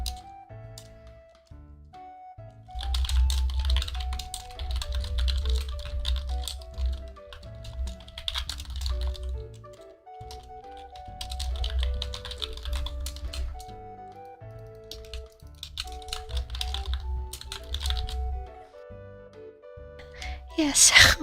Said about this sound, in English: Here I am typing furiously.